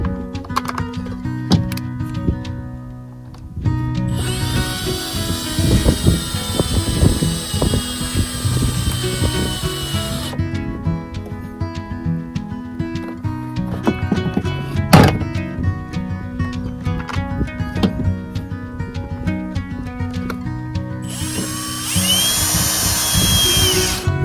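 A power drill or driver snugs screws back onto a chainsaw while a pull cord is reassembled, whirring loudly in repeated bursts with high-pitched motor whine and clattering handling noises in between.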